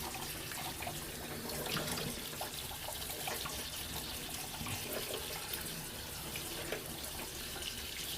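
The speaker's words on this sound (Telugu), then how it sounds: "ఈ పోహాని వాష్ చేసుకోవాలి" Poha (flattened rice) in a strainer being washed under a running kitchen tap, a steady, close rush of water splashing through the flakes, with no talk.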